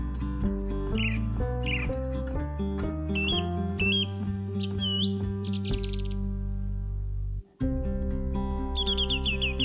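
Bird chirps and whistled calls in the Himalayan mountains, a rapid series of bright tweets and short rising notes over a steady low tonal hum, with a brief break before the calling resumes.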